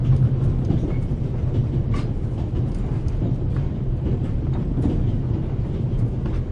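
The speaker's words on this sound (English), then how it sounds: "The noise on this train is driving me crazy." A train runs on rails in a passenger carriage of the Orient Express, a loud continuous rumble with faint rhythmic clickety-clack throughout, no talk.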